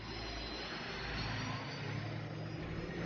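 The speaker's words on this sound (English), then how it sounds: "This is a boat with a propeller. It's called a hydroplane and it'll do 200 miles an hour." A hydroplane racing boat engine at Lake Mead sounds continuously, a loud roaring drone, dense high-powered whine with a rough low rumble underneath, no voices.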